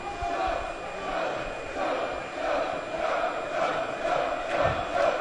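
High school basketball crowd chanting at a free throw shooter in a tied game, a rolling mass of voices swelling in waves over several seconds, moderately loud and continuous.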